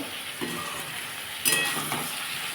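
Potato, ridge gourd and prawn curry sautés in a pan, giving a steady moderate sizzle with stirring scrapes and a brief louder burst midway, close and alone.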